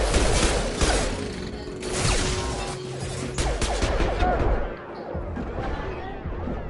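Gunfire and impact crashes from the sci-fi shooter Mass Effect 2 Legendary Edition fill the clip, with dense overlapping shots and clattering hits that continue throughout at a steady, loud level.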